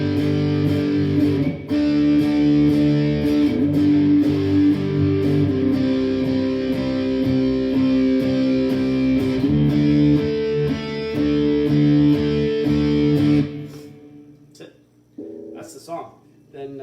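Distorted electric guitar plays the chorus of a song, loud and sustained with strummed chords, then cuts off near the end, leaving a few short plucked notes.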